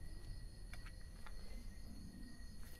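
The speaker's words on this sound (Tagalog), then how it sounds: "Kuliglig na maririnig mo." Crickets chirp in a cemetery in quiet, repeating trills against a faint, low background hum; no one speaks.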